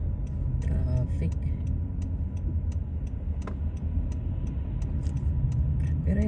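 Downtown street traffic in Liberty, Missouri: a steady low rumble of passing cars with faint regular ticking over it, fairly close, with some voice in the background.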